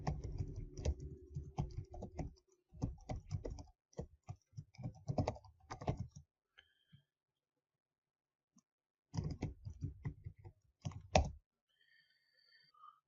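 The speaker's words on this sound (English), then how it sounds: "I need to type in my user ID and password and get myself authenticated" Typing a user ID and password on a computer keyboard: close, quiet bursts of rapid key clicks separated by pauses, with a long gap of near silence before a final short flurry.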